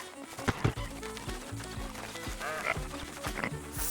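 A horse in Red Dead Redemption 2 whinnies while its hooves clop in an uneven rhythm, set against busy game ambience and background music at moderate loudness.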